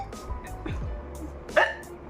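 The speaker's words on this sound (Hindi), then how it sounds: "एकदम से हिचकी आ रही थी" A person hiccups in a short series of sharp, abrupt jolts from close by. The last hiccup is the loudest, and there are quiet breathy pauses between them.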